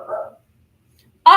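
Indoors, a dog lets out one sharp, loud bark close by after a brief soft whine and a stretch of near silence.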